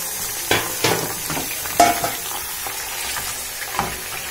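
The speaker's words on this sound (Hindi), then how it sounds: "अब मैं इसके अंदर सबसे पहले जो है गोश्त को डाल के इसको थोड़ा ब्राउन करूँगी।" Mutton pieces for Delhi nihari brown loudly in hot oil with onions in a pot, a dense close sizzle broken by several sharp stirring scrapes and knocks.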